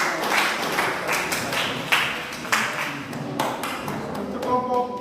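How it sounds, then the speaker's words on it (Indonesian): Scattered hand claps from a small classroom audience patter along for several seconds, uneven and moderately close, with a voice briefly heard among them. "mari kita beri aplaus kepada"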